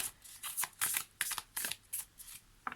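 A deck of oracle cards being shuffled by hand, a series of crisp riffling and sliding bursts in an uneven rhythm, close and fairly quiet with no talk.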